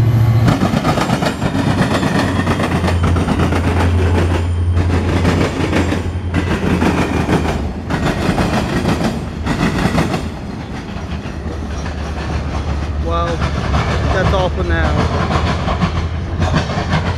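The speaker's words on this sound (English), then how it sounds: "I may now give you a CSX eastbound with four cars." Short CSX eastbound freight train of four cars passing close by, loud rolling rumble with rhythmic clickety-clack of wheels over rail joints and a brief squeal near the end.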